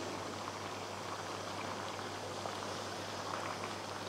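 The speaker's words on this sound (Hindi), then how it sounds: "अब इसे पकने देंगे मीडियम फ्लेम पे 5 मिनट के लिए। तो ये देखिए साथ साथ मैं चम्मच चला रही हूँ।" Mutton white karahi simmering on a medium flame, a steady soft bubbling sizzle with faint spoon-stirring scrapes, quiet and continuous with no voices.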